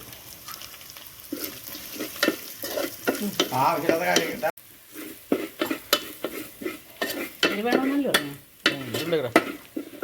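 Curry leaves and dried red chilies frying in oil for raw plantain upperi in a village kitchen: continuous crackling sizzle with busy stirring and scraping of a utensil against the pan, close and fairly loud.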